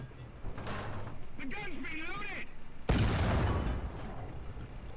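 A tank main gun fires in the realistic battle mode of War Thunder, one sudden loud blast near the middle that rings out and decays, with someone talking before it.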